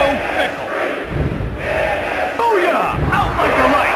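Wrestling arena crowd noise from the video game WWF Attitude, a steady loud roar and chanting that fills the whole clip, with thuds and a commentator-like voice on top.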